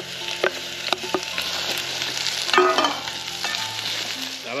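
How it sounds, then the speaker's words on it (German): Potatoes roast in a hot pan at an outdoor cooking contest, with a loud, dense sizzle and repeated clacks and scrapes as a utensil stirs them. No one talks. "mache ich jetzt schon mal die Kartoffeln damit rein und röste die ebenfalls an"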